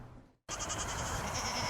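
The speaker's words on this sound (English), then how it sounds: "These 200 goats are clearing pesky weeds" Goats grazing on weeds bleat after a brief silent gap, a sustained, fairly faint wavering cry that wobbles in pitch, with no talk.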